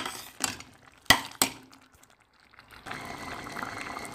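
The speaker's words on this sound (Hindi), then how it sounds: "देखिए दाल हमारी तकरीबन बॉयल हो चुकी है" Masoor dal boils in a pot: a few sharp clinks of a utensil at first, then a short hush, followed by a steady soft bubbling simmer close by, with no speech.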